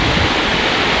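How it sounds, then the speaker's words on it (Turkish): The waterfall at Çatalağaç village lake roars close and loud, a dense continuous rush of falling water with no pauses and no voices. "Çatal Ağaç Gölü Şelalesi."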